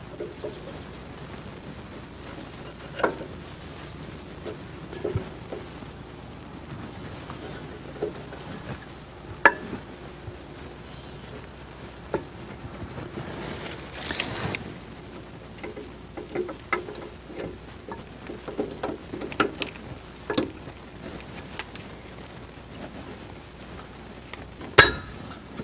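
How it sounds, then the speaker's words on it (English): Brake pads for a Ram 1500 slid onto small caliper clips, producing sparse quiet metallic clinks and taps spread across a long, mostly hushed stretch, with one louder clatter partway through. "Next I'm going to put the brake pads on. They just slide onto these little clips here."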